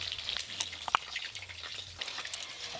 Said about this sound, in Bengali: এদিকে তুল মাছগুলো হালকা করে ভাজা হয়ে গেছে